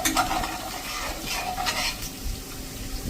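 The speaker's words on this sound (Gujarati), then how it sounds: "1/4 ટીસ્પૂન જેવી હળદર નાખી દઈશું, 1 ટીસ્પૂન જેવું કાશ્મીરી લાલ મરચું અને એને મિક્સ કરી લેશું" Turmeric and Kashmiri red chili being stirred into a frying onion-potato mixture in a pan, with a soft steady sizzle and scraping stir sounds close by, no talking.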